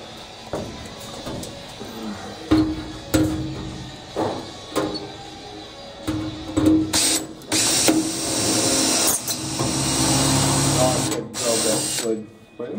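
A drill bit slips and chatters while boring into stainless steel during a workshop coilform build, heard as intermittent whirring, grinding bursts of varying length, with people talking over and between them.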